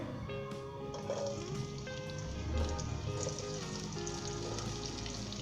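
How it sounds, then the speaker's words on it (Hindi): Steady, quiet sizzling of onions and garlic frying in hot oil in a pan, with soft crackles and pops throughout and faint background sounds. "प्याज को डाल देंगे इसके अंदर हम, लहसुन भी साथ में डाल देंगे।"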